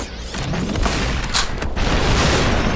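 Shotgun blasts in the video game Superhot, a dense, loud stretch of booming, rumbling game gunfire and mechanical noise, continuous for a few seconds with no voice.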